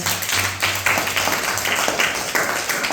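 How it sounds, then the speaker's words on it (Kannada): Fourth-grade children applauding together in a classroom, a continuous rapid patter of many small hands clapping at moderate loudness, pulsing slightly, with a low hum behind it. "ವೆರಿ ಗುಡ್ ಚಪ್ಪಾಳೆ"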